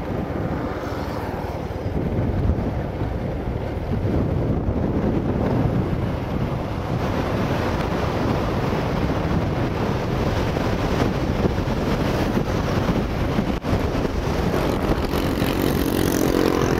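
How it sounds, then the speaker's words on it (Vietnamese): Strong wind roars steadily into the microphone on a coastal road near the sea at the Đèo Cả pass in Phú Yên, a loud, unbroken rush with no talking. "Gió thổi đứng xe lại luôn."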